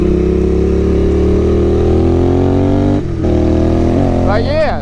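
A Royal Enfield Continental GT 650 motorcycle rides along twisty roads, its engine droning loud and steady with a brief dip and shift in pitch near the end, while a rider talks over the engine.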